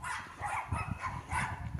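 Several small dogs bark and yip in quick, overlapping bursts, close by and fairly loud.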